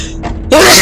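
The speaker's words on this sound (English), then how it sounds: "Excuse me, sneeze." A single loud, sudden sneeze bursts out after a brief, quiet intake of breath.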